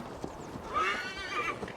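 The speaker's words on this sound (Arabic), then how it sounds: "ناخد الحصان،" A horse in the Assassin's Creed Valhalla video game gives a short whinny over soft hoof clip-clops, a brief moderately loud burst with faint background sound.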